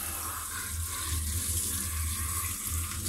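Lettuce leaves are washed one by one under a running kitchen tap, a steady close splashing stream of water into the sink with no talk.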